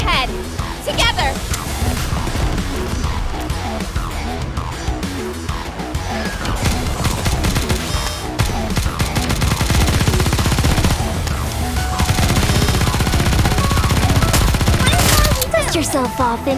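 Gunfire from the anime shooter NIKKE rattles in rapid, sustained bursts over a driving game soundtrack, with loud overlapping shots and impacts throughout while character voices speak on top.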